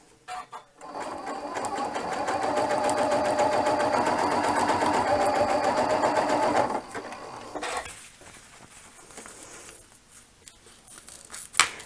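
A Janome sewing machine stitches elastic onto fabric in one steady, rapid whirring run of about six seconds, then stops, leaving faint handling rustles and clicks.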